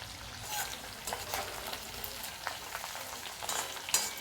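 Curry leaves crackle and sizzle in hot oil in a pan, a steady crisp frying hiss with bursts of spitting pops, nearby, no talk.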